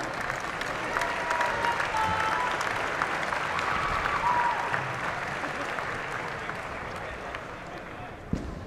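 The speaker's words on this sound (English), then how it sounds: "a round of applause for these two heavyweight fighters kicking off the night" A crowd at a hybrid-rules combat sports event applauds two heavyweight fighters, a continuous broad wash of clapping and cheering with an announcer's voice carrying over it.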